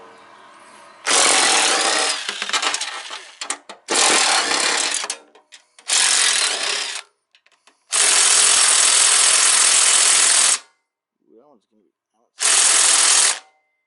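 Power tool work on a Craftsman lawn tractor being stripped for parts: a loud, close drill or impact driver backing out bolts runs in five sustained bursts, the longest about two seconds, separated by short pauses with faint clinks.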